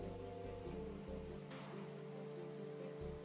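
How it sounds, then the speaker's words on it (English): Steady, even rain falls in the video game Minecraft as a continuous soft patter under low ambient music, with no voices. "And now it's raining."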